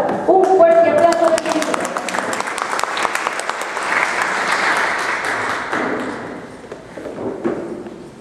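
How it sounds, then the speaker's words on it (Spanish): A conference audience applauds for an engineer taking the stage, the clapping swelling loudly for several seconds before tapering off, with voices mixed in at the start. "Un fuerte aplauso."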